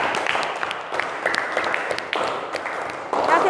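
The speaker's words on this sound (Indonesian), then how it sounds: "Beri tepuk tangan untuk Mas Ibnu." A crowd claps steadily for a few seconds, with a voice briefly audible under the applause in a room.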